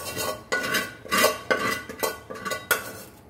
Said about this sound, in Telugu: వేసుకుని ఇప్పుడు అన్నీ ఒకసారి కలిపేసుకోవాలి.